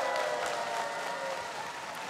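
Soft, steady applause from a concert crowd welcoming a county official dressed as Santa at a dried persimmon festival event, heard at a distance without voices.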